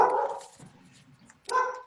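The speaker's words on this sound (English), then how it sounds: "Apology for the dogs." Dogs bark in the background of a remote Newberg city council meeting: a loud burst of barking opens the clip, a quieter stretch follows, then another burst of barks near the end.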